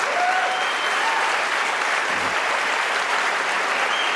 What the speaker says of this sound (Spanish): si quieres aplaudir